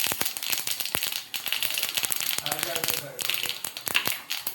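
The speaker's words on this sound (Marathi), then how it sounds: "तेल गरम झाल्यावर मोहरी ॲड करते आहे" Mustard seeds crackle and pop in hot oil in a small pan, a dense run of sharp, irregular close-up sputters, with a voice briefly speaking underneath.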